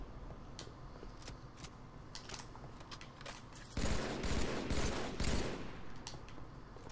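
Rapid bursts of automatic gunfire in the Halo 3 video game, at first in faint scattered shots, then swelling into a louder sustained stretch of firing before easing off again.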